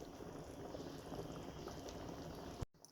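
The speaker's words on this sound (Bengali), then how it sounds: "আমি নেহারিটাকে মিডিয়াম আঁচে সারা রাত বসিয়ে রেখেছি।" A pot of nehari stew simmers on medium heat with a continuous soft bubbling and gurgling, quiet and close, then cuts off abruptly near the end.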